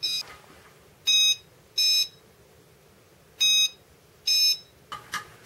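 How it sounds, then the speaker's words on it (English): A small electronic buzzer driven by an Arduino sounds four short bursts of high, Apollo Mission Control-style beeping tones at uneven intervals, separated by near-silence, with faint clicks at the end. "sends the signal to my buzzer to sound those tones."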